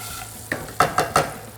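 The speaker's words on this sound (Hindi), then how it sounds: "प्याज को 3-4 मिनट और भूनना है" Onions frying in a pan for dosa chutney, a steady soft sizzle under three or four quick scraping stirs of a spoon, close and moderately loud with no talk.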